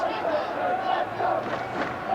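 A vocal crowd of school students cheers and chants at a schoolboy rugby cup match, a sustained, roaring wall of massed voices heard from a distance.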